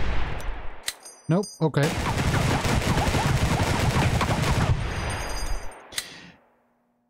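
At a Receiver 2 shooting range, sharp gunshots crack in quick succession, first a few separate shots and then a dense, rapid burst lasting several seconds, with one last loud report before it falls silent; someone speaks briefly.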